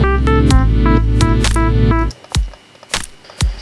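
A programmed drum pattern in FL Studio Mobile, with an extra kick placed before the snare: loud, punchy, evenly spaced hits over a held tone, then a few sparse hits alone.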